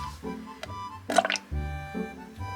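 Drain in a Japanese home plumbing cleaning job gurgles after the water finishes flowing, a few brief wet glugs and drips close by, with a louder burst of bubbling partway through.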